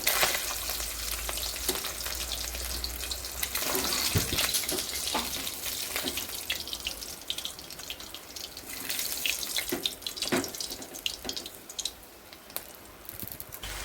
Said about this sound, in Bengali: এবার আস্তে আস্তে ভাজা হোক ভাই, আমি দূরে থাকি। মাছ ভাজা হয়ে গেছে